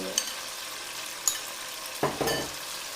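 Ginger-garlic paste being sautéed in a pan gives a soft sizzle under clinking utensil taps and a louder burst of stirring near the end, all close and moderately quiet.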